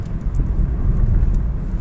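Inside a car creeping through heavy traffic toward Bang Yai in Nonthaburi, a deep steady engine and road rumble fills the cabin, close and continuous, with no talking.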